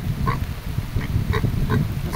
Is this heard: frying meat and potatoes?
no